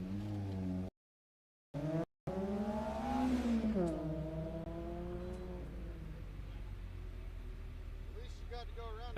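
A Mazda Miata race car, number 188, pulls away from the start line at an autocross event at Daytona, its engine revving up through rising harmonics and then holding a steady drone, with other noise in the background.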